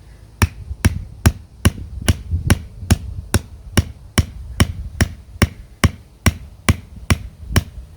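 Steady hammer blows strike a wooden tool while wood is carved into a Scottish spindle, about two sharp knocks per second, close and clear, with no talking.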